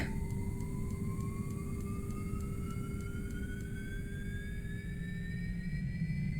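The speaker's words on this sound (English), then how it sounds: "Let's get the right engine going." The right turboprop engine of a Beechcraft B1900D spools up in X-Plane 11, a steady roar with a rising whine that climbs in pitch over several seconds, heard alone and fairly close.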